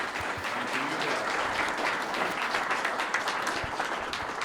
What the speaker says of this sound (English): let's give all of our veterans a round of applause